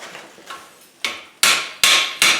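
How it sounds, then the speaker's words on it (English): A forged steel wreath hook is hammered on the horn of an anvil, five loud ringing strikes growing heavier and evenly spaced, close up and alone. "We hammer it down."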